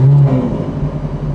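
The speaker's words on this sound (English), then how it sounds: "And now, push button start. Let's fire this up." A Ferrari F430 Scuderia's engine, converted to a gated manual, catching from a push-button start: a brief loud starter whine that settles into a close, deep, steady idle rumble.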